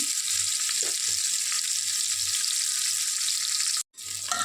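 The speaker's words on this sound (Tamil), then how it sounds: "இந்த ஆனியன் நல்லா கோல்டன் ப்ரௌனாக அழகாக வேகணும்." Onions frying in a pan until golden brown for a chicken leg rice dish, a steady close sizzle with faint stirring scrapes and a brief dropout near the end.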